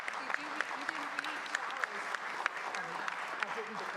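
An audience at a Durham city council meeting applauds award nominees from local companies, a steady patter of clapping from a room-sized crowd, moderately distant and continuous throughout.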